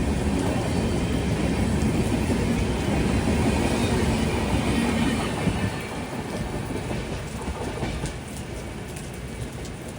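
A passenger train running from Korba toward Thiruvananthapuram rolls along the rails near Walayar Railway Station, a loud continuous rumble with faint clatter that eases a little partway through, with no voices.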